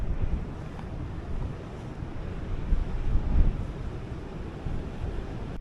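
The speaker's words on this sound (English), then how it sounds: "It is so windy out there this morning" Strong wind at sea on the deck of the cruise ship Costa Toscana in the Mediterranean buffets and roars against the microphone, rising and falling in gusts with a rough, rumbling wash like open water beneath.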